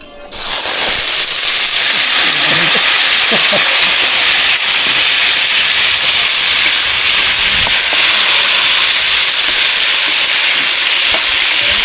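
Loud, steady sizzling hiss of food sautéing in a hot pan, starting abruptly and continuing without pause.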